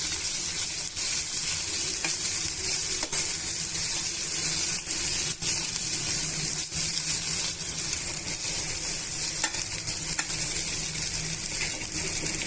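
Peanuts and coriander leaves dry-roasting in a pan for hotel-style peanut chutney, giving a steady close hiss with faint scattered clicks and scrapes as they are stirred, no voices.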